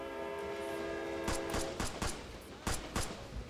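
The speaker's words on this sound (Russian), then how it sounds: "Я на поезде от тебя уйду." A passing video-game train gives a sustained horn-like tonal drone that fades as a run of sharp, evenly spaced metallic clacks and thumps takes over, moderately loud with a bit of background rumble.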